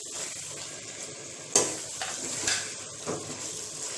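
Chopped tomatoes sizzle and fry in a pan over a full flame for Kashmiri chicken masala, a steady hiss broken by a few spoon-and-pan stirring scrapes.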